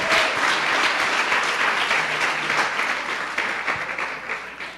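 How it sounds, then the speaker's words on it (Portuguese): A church congregation claps together in sustained, dense applause that fades slightly toward the end, with no talking over it. "Uma salva de palmas ao Senhor."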